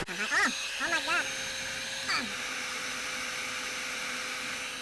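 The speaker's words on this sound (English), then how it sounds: "Now you're gonna need a blow dryer, and this is gonna be very loud" A loud blow dryer runs steadily on a McFarlane Halo 3 Elite action figure to loosen its joints, a constant whooshing drone with someone talking over the start.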